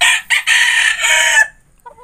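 A rooster crows loudly and close, one long broken call lasting over a second, followed by a brief faint cluck.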